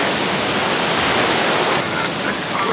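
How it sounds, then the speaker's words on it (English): Storm waves crash and churn against a rocky beach where elephant seals shelter, a loud, dense roar of surf and spray that swells continuously and eases slightly near the end. "The waves slam her into the rocks far down the beach."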